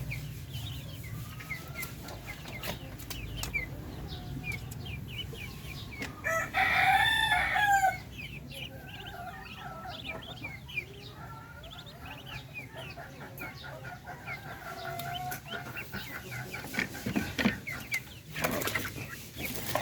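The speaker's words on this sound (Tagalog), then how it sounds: "At kagaganda ng mga sisiw natin na yan." On a farm, a rooster crows once loudly in the middle while hens and young chicks cluck and peep softly around it, with rustling and scattered light farmyard sounds continuing before and after.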